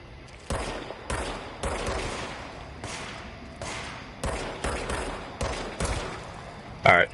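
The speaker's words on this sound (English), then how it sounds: "shooting feels really good in this" Bursts of video game gunfire in quick succession, loud and close, each volley cutting off sharply, with short gaps between shots and a brief extra blast at the end.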